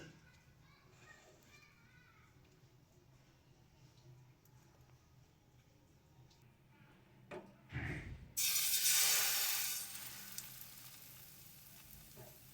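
Patishapta batter is poured into a pan of hot oil; after a stretch of low kitchen murmur, a sudden loud, steady sizzle bursts up and hisses on for several seconds before easing slightly.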